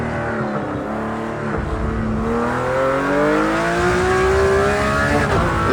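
A Porsche GT3 RS engine in a racing game climbs in pitch as it accelerates out of a corner, loud and close, with a smooth rising whine through the gears.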